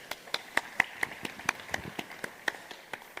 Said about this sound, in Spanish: Un fuerte aplauso para Jaime.